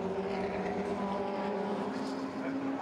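Lotus Cup Europe race cars at Brands Hatch drop down toward Clark Curve, a continuous high engine drone from nearby cars, with commentary running over it.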